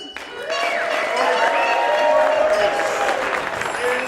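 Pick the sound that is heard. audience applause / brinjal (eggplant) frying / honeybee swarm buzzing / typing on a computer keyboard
audience applause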